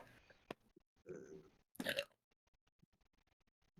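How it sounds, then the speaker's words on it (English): A person burps loudly once, a short rough belch amid small mouth and chewing noises and a brief earlier vocal sound in a quiet room. "Ugh, I gotta burp hard."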